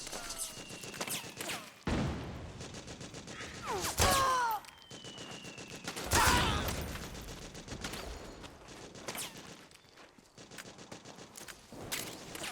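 Gunfire in the video game Metal Gear Solid 4: Guns of the Patriots crackles in rapid automatic bursts, with a few louder blasts and swooshing effects over game noise, no talking.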